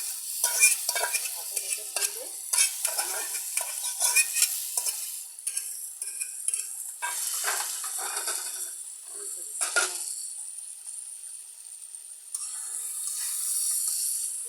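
Boiled taro stirred into a sizzling spice paste in a pan for a Bengali taro-greens dish: a close, bright frying hiss with repeated scraping strokes of a spoon against the pan, uneven in rhythm, no voices.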